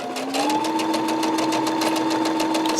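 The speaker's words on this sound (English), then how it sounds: "stitch up the side, just to hold it in place until I stitch it from the right side." A sewing machine running at its longest stitch, a close, rapid, even run of mechanical ticks over a whirring motor tone that rises slightly as it speeds up and then holds steady.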